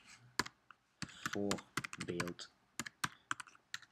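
Typing on a computer keyboard while entering text in Google Docs, with rapid clusters of close key clicks and a few sharper strokes, interleaved with a spoken word.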